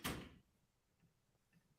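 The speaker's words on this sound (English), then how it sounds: "I heard a door" A door opens or closes with a soft thud and rustle at the start, fairly faint and distant, followed by quiet room tone and small clicks.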